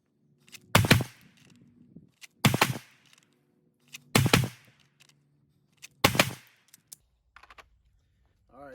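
Handgun shots fired in quick succession during a concealed-carry practice drill: four sharp, loud bursts of two or three rapid shots each, separated by short pauses, with faint handling noise between strings.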